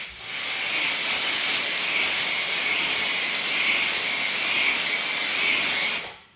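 A cheap pressure washer spray gun with a swivel nozzle firing water at full trigger pull, a loud, steady, close hiss rising sharply at the start and cutting off abruptly just before the end, no voices.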